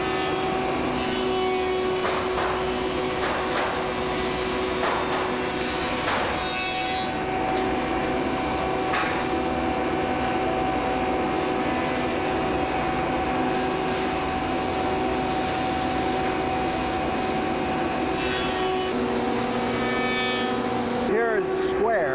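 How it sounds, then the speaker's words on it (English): A woodworking machine with cutters shaping a decorative framing bead along a square-edged piece for kitchen cabinetry, running as a steady loud whirring hum with shifting rubbing, grinding tones throughout. "there's cutters in this machine that put the decorative edge to it."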